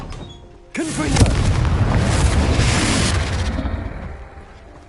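Confringo spell explosion in Hogwarts Legacy, a sudden loud blast that sustains as a roaring rumble for a few seconds before fading, heard alone.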